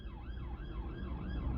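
A police siren wails in a rapid, repeating up-and-down cycle over a low rumble of road traffic, close and steady for the whole moment, with no talking.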